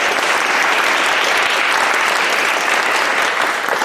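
Audience applause at a local election debate in Gateshead, loud, steady and dense clapping from a sizeable crowd that holds at a constant level throughout.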